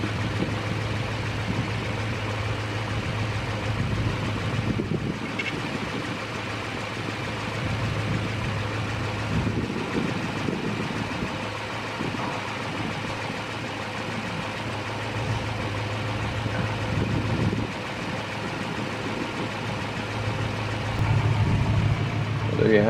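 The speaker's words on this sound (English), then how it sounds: "at least right now it starts, it runs, it drives, it moves under its own power" A freshly tuned-up vehicle engine idles steadily with a low, even rumble throughout, someone talking over it intermittently and the engine rising slightly near the end.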